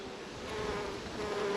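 Honey bees buzzing steadily during a hive inspection, a dense close drone with a faint higher whine riding on top, with no talk.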